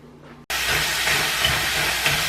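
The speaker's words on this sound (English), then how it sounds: "I'm just gonna fire all this into a preheated frying pan and just saute it with a little bit of water." After a brief quiet moment, a loud, steady sizzling hiss erupts as vegetables with a little water hit a preheated frying pan and keep frying continuously.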